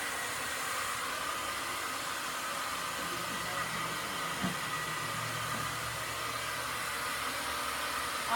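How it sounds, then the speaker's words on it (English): A hair dryer with a concentrated nozzle blow-dries hair at the roots with a steady, loud whoosh throughout, its constant airflow hiss unbroken apart from faint shifts as it moves. "I am going to be blow drying on base for optimal volume."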